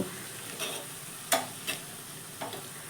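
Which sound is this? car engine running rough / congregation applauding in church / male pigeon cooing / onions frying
onions frying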